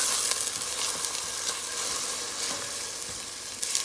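Green seasoning with garlic, pepper, green onion and thyme frying in a pot, a dense, continuous bright sizzle with small crackles and occasional stirring scrapes, close and steady throughout.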